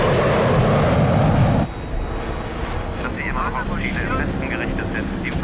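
A German jet plane from the Second World War roars loudly overhead, its heavy rumble dropping to a steady sustained drone, with no one talking over it.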